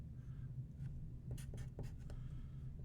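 Writing on a board: a run of quick, scratchy strokes in short bursts over a steady low room hum, close and fairly quiet, with no talking.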